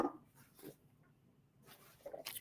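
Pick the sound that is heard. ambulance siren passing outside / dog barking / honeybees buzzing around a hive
dog barking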